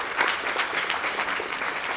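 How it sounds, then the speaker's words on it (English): A school audience at an elementary school legacy event gives a short, even round of applause, a steady wash of claps with no speech. "please, give them a round of applause for Mr."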